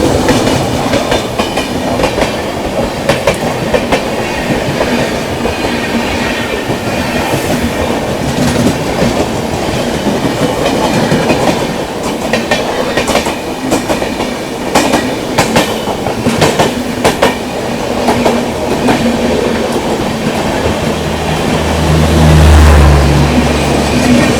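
The Dibrugarh–New Delhi Rajdhani Express, hauled by a WAP-7 electric locomotive from the Ghaziabad shed, rumbles past loud and close, a continuous roar of wheels with rhythmic clickety-clack over rail joints throughout.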